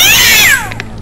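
A cat in the game Gast lets out a single loud, close, drawn-out meow that falls in pitch and cuts off halfway, followed by a faint brief tap.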